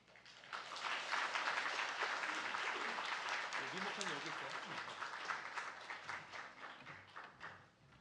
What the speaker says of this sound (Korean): 우리 전사님 소개할 때 여러분 환영의 박수 보내주시기 바랍니다.